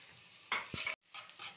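A spoon stirs vegetables frying in a pan, with a couple of quick scraping strokes over a soft sizzle in a brief, close burst.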